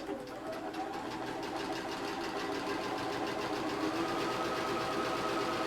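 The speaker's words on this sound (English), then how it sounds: "I'm going to sew down the other side before we chop it off." A sewing machine runs steadily, stitching fabric for a disappearing half-square four-patch quilt block, a continuous fast rhythmic whir at moderate volume with no talk.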